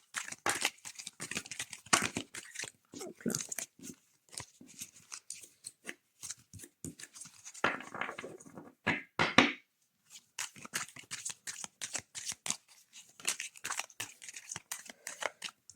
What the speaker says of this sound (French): Elles sont faciles vraiment à mélanger parce que elles sont glossy, donc elles sont très, très faciles à mélanger